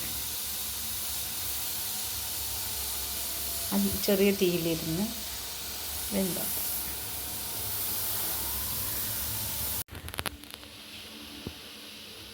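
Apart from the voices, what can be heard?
steam rising from a pot while cooking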